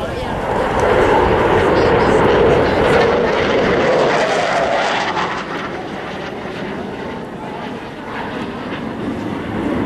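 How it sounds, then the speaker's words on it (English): An F-18F Super Hornet making a high-speed inverted pass at idle power at an air show over a beach, a loud, broad jet roar that swells and then gradually recedes, with a commentator speaking over it. "we're going to see a high-speed pass with the power back at idle"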